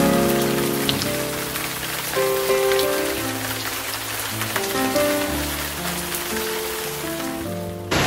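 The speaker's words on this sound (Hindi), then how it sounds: "बारिश अब बहुत तेज़ हो रही है" Steady, dense rain falling on surfaces, a continuous wash of drops with a low tonal hum underneath and no voices.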